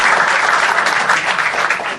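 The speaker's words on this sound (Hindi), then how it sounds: "तो गाइस एक बार जोरदार तालियां हमारे पैनल के लिए आज." Loud, dense audience applause for a comedy show's panel, many hands clapping continuously and close for a couple of seconds.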